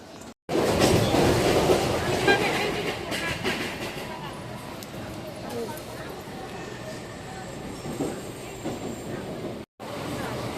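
Inside a moving Mumbai local train near Dadar, a continuous rattling rumble of wheels on rails carries on with faint clickety-clack, while voices talk over the noise.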